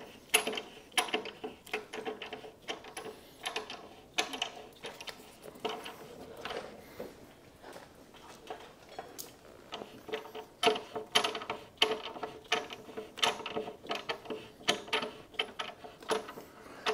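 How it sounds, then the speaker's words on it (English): Threads of a motorcycle front wheel axle rattle and click as it is unthreaded, a long run of irregular metallic ticks and clatters with no talk. "the threads on this are pretty long. It'll take a moment. You can see the axle starting to come out."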